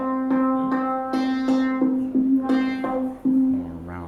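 Synthesizer demo at a local event: repeated resonant synth notes with a filter resonance, giving a rounder, vowel-like tone, played as a steady series of sustained pitches with short gaps, alone and fairly loud.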